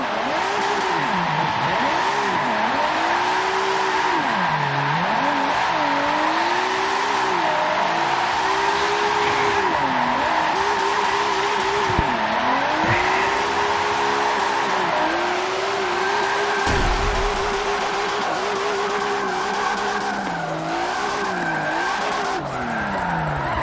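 A Nissan GT-R in the Forza racing game, a loud, continuous engine drone that rises and falls with shifting revs, wailing tire squeal through drifting corners, no talking.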